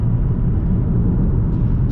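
Audi TT 2.0L Quattro engine while driving, a steady, throaty low rumble that holds loud and even throughout with road noise and no voices.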